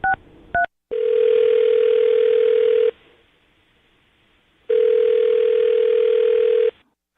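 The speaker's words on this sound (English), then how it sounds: "we'll call his phone number right now and see if we can get him on the phone" A telephone call being placed: two short dial tones, then two long, loud steady ringback tones separated by a quiet gap, clear and with no talking over them.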